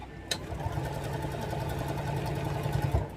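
A sewing machine runs steadily, stitching a quilt block seam, with a continuous motor whir and a faint rattle of the mechanism throughout, close and without talk.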